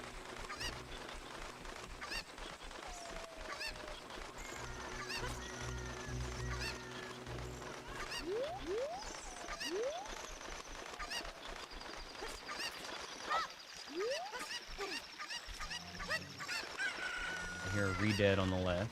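Chickens cluck and squawk repeatedly through a stretch of play in the video game Ocarina of Time, mixed with other game sounds and music.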